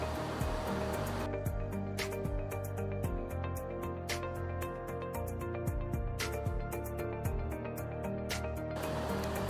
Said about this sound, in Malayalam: പിന്നെ കുറച്ചും കൂടെ വെള്ളവും കൂടെ ഒഴിച്ചിട്ട് നല്ല തിക്കായിട്ട് തന്നെ അരച്ചെടുക്കുക.